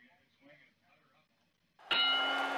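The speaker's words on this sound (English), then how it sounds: "And there's the bell." Commentary runs quietly at first, then a boxing ring bell strikes loud and clear to open round one of a fifteen-round middleweight fight at the Orange Bowl, leaving a long ringing sustain.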